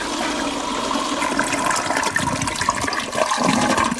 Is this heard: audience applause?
no